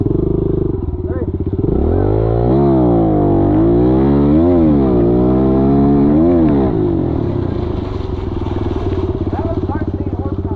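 A Stark VARG MX 1.2 electric dirt bike launches hard, its loud, close electric drivetrain whine rising and falling in pitch with surges of power, continuous throughout, while people talk over it.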